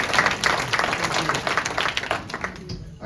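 Audience applause at a Bexar County State of the County address, a dense wash of clapping that runs steadily for a few seconds and then fades out.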